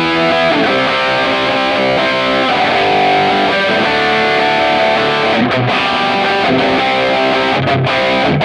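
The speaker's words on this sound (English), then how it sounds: "a 79 tube screamer." An electric guitar runs through a Mars LJ 800 Kemper amp profile, pushed by a '79 Tube Screamer overdrive. Loud, thick distorted chords ring out and sustain, with a few brief cuts between strums, and no talking.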